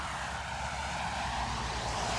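Aircraft engine roar at Dublin Airport, a loud steady broadband drone of a plane passing nearby, with no other sounds.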